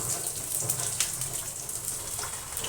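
Five cloves of chopped garlic fry in ghee for a Bengali potoler dorma, giving a soft, steady, continuous sizzle with no voices over it.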